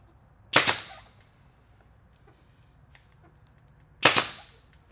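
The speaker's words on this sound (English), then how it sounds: "and then I'm going to staple it back down." Two loud, sharp staple-gun shots close by, about three and a half seconds apart, fixing a dirt bike seat cover back down, with quiet room noise between them.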